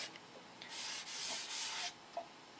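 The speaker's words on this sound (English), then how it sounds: "that takes a considerable amount of sanding" A few short strokes of sanding a plastic model aircraft fuselage, a soft abrasive rasp rubbing back and forth at close range, with brief pauses between passes.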